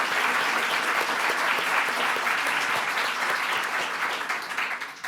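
Sustained applause from a seated audience at an author event for a book talk, dense and steady throughout, tapering slightly near the end.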